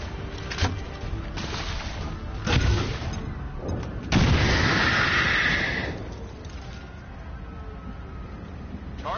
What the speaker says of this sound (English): Drop the grenade on them.